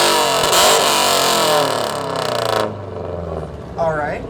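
A car at an exhaust competition revs hard through a loud aftermarket exhaust, a sustained roaring blast close by that cuts off partway, then lower engine noise with a voice speaking over it.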